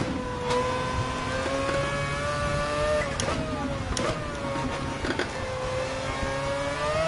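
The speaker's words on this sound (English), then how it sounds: "So that's 787 rotary. They're pretty high revving" Mazda 787 rotary race car in Gran Turismo 7, its engine revving high with a shrill, whining harmonic tone that rises and dips across gear shifts, loud and steady throughout, no talk.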